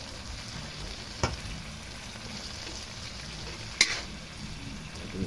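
Bottle gourd (upo) slices hit a hot pan over a raised flame, giving a steady soft frying hiss with a couple of sharp crackles or stirring clinks, close and alone.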